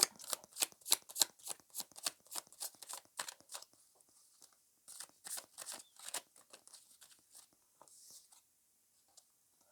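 A deck of tarot cards being shuffled by hand close up, quick riffling bursts of crisp card flicks in clusters, pausing briefly and then resuming before trailing off into quiet.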